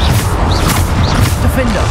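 Loud booming Bombarda explosion spells blasting in the game Hogwarts Legacy, dense and continuous, with a voice calling out over the crashes.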